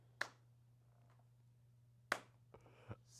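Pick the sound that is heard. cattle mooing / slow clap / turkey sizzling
slow clap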